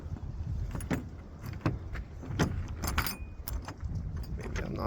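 Keys for a 1998 Dodge Ram 1500 pickup jangle close up in a steady, bright metallic rattle with repeated clinks over a few seconds and no talking.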